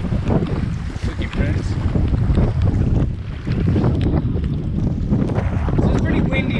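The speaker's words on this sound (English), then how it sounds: "So it's pretty windy out here." Strong wind buffets the microphone over open water in British Columbia from a tiny rowboat, a constant roaring rumble with waves washing beneath it.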